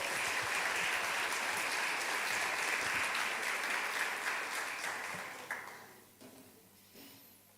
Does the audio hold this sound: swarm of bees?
no